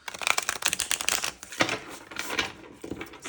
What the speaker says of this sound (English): So let's shuffle one more time.